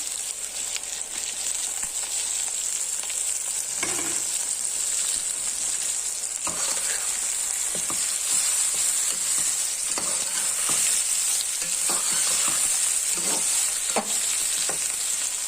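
Capsicum and tomato cook in a pan over a medium flame, giving a steady close sizzle with soft scraping stirs and occasional light taps throughout, no voices.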